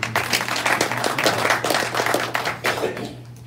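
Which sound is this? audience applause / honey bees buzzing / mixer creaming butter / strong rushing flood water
audience applause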